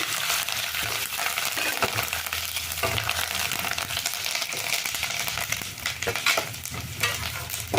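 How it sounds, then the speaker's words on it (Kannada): Grated coconut fries in oil with two dried red chillies, giving a steady, dense sizzle with stirring scrapes throughout and no talking. "ತೆಂಗಿನ ತುರಿ ಎಣ್ಣೆನ ಸ್ವಲ್ಪ ಫ್ರೈ ಆಗಲಿ"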